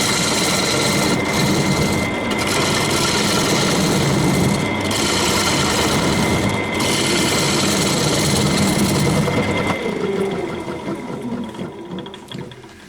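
Wood lathe turning the foot of a bowl held on an eccentric chuck, a loud continuous whirring drone with scraping tool contact that cuts off near the end as the machine winds down, alone without speech.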